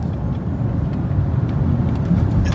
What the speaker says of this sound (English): Just as soon as you hit the gas, the car picks up.